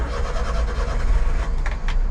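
An old kei truck's engine starts up and runs with a low, steady rumble, close and continuous, with a couple of brief clicks near the end.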